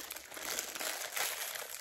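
Magic Cream cracker sandwich snack wrappers crinkle and crumple steadily at close range, a continuous dry plastic rustle with no talking.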